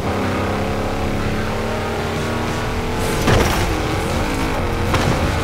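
An Audi R8 engine in Forza Horizon 4 drones loud and close, revving up and down with a sharp throttle swell midway as the car drives on.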